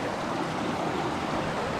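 River water rushes steadily during a river crossing, a dense, continuous wash of flowing water close by with no voices.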